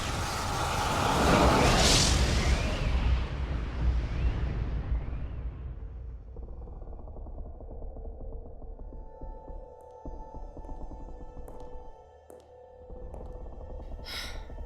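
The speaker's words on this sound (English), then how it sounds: "The wind blew the torches out too." A strong wind gust roars up suddenly in an audio drama, whooshing loudly as it snuffs out a fire and torches, then fades into a low rumbling ambience with faint thin tones.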